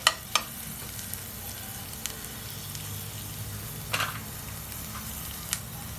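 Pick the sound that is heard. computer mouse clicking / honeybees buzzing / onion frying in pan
onion frying in pan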